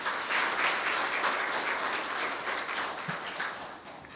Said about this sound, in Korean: 7분 발표에 대해서 뜨거운 박수 부탁드리겠습니다